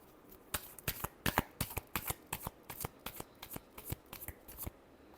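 Tarot cards shuffled by hand, a quick run of about fifteen crisp riffling bursts in an uneven rhythm, close and fairly quiet with no talk.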